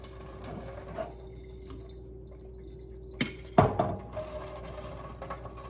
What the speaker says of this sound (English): And you're just gonna pour all the water out.